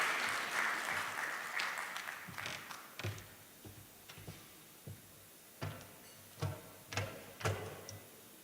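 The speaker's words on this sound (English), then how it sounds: "Ladies and gentlemen, a round of applause" A conference audience claps at a geopolitics and oil presentation, starting as a brief burst that thins into a few scattered, separate claps and taps spaced out over the remaining seconds.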